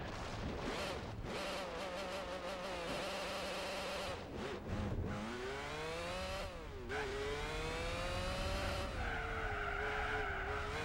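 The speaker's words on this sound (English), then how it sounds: "Boggles my mind how long they make these race cars shift for." A 2002 Ford GT LM race car in Gran Turismo 4 revs hard through long drawn-out gear changes, its engine pitch rising and dropping in sweeps amid tire squeal, loud and alone.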